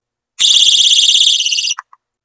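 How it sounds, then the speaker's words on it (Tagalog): A personal safety alarm for a go bag blasts a loud, piercing, warbling electronic shriek for over a second, then cuts off, followed by a couple of faint clicks. "Sobrang lakas nitong ganitong klase ng alarm."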